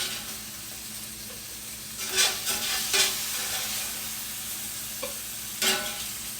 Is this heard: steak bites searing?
yes